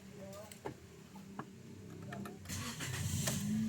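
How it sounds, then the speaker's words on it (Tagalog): A Toyota Vios with 167k km on it, in for a service, has its engine started from inside the car: a short cranking burst, then the engine catches and settles into a steady idle hum, with faint clicks early on. "pa-start ko na itong makina niya"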